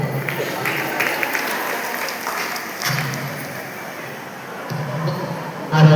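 An audience at a women's self-help group gathering in Chhattisgarh gives a welcoming round of clapping, a steady broad patter that holds for several seconds and swells again near the end.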